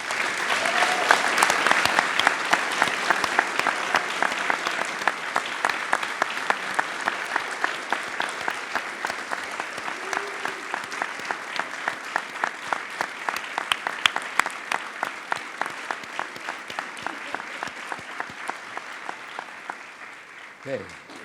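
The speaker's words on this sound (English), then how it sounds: "please give them a round of applause" Long round of applause from a gathered audience for a police department's reform team, steady and full with distinct individual claps, slowly thinning over about twenty seconds.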